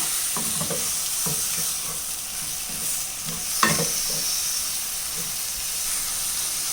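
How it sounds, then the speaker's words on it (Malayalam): Chicken coated in masala sizzles and hisses in a frying pan while a spoon stirs it, with rhythmic scraping strokes and one sharper clank, close up and without talk. "ഇതെല്ലാം കൂടെ ഒന്ന് നല്ലതുപോലെ ഇളക്കി മിക്സ് ചെയ്യാം."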